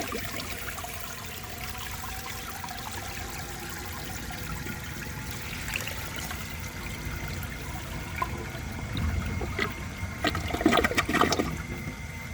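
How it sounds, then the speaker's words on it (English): A 1973 Eljer Emblem toilet flushes with a steady rush of water throughout, swelling louder and more turbulent near the end, with no voices present. "now I'm going to give it another flush just to clean it out"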